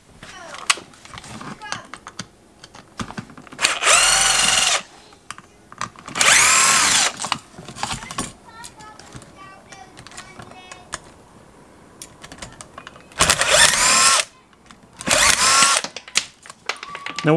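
A power drill backing screws out of drywall whirs in four short, loud bursts, separated by quieter stretches of faint handling noise and clicks.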